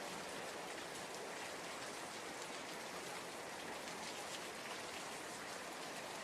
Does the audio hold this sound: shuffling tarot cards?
no